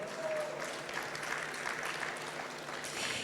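Audience applauding at an organic-trade award ceremony, a dense, even wash of many clapping hands sustained without a break for a few seconds, full and close.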